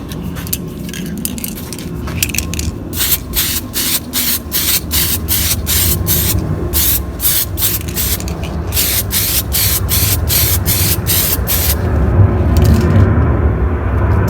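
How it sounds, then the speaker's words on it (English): Spray paint sprayed onto BMW E46 tail lights to smoke them, heard as a run of rapid, evenly spaced hissing bursts close by, over a low background rumble. "let me let it air out just a little bit, and then we'll hit them again"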